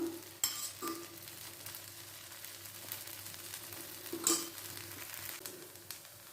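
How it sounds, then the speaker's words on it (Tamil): A rice flour dosa fries on a pan with a faint, even sizzle. Two or three light clinks of a utensil sound close by. "இப்போது தோசை நல்லா மொறுபொருன்னு செவந்து ரெடி ஆகிட்டுருக்கு"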